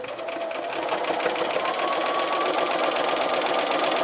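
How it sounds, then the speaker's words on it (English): A sewing machine runs steadily, stitching across the seam of a fabric lining for a crochet bag; the motor's continuous whir holds close and even for the whole stretch, with no talk. "I'm just going to sew it across"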